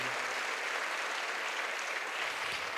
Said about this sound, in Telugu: మనందరం కూడా గట్టిగా చప్పట్లు కొట్టి ధన్యవాదాలు తెలియచేయాలి.